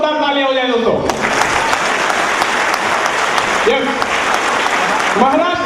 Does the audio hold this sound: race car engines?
no